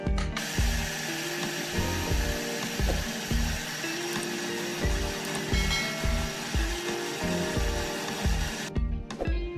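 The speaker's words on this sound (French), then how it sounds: "et je mixe." A food processor blends lentil pizza dough with added water, a loud continuous churning roar with a rapid rhythmic thumping pulse as the blade and dough knock around the bowl, stopping abruptly near the end.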